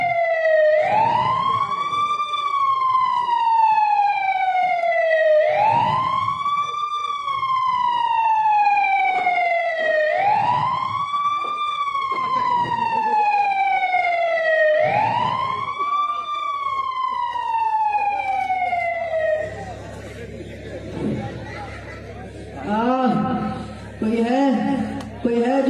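An emergency vehicle siren wails loud and steady in a repeating rise-and-fall cycle about every four seconds, then gives way to softer mixed noise and faint voices toward the end.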